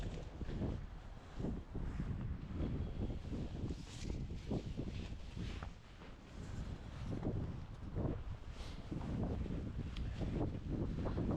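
Strong wind by Lubczyna lake in February buffets the microphone in continuous rumbling gusts, loud and close, with no voices.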